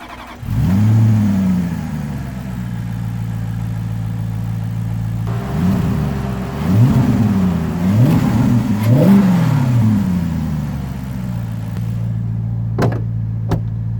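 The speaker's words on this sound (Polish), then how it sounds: "Silnik jak to silnik, tak bez obciążenia, mało który brzmi ładnie" A Maserati GranTurismo with a 4.2 V8 starts up and revs unloaded, settling to a steady idle before a series of quick blips rising and falling, then back to idle, loud and close with no talking.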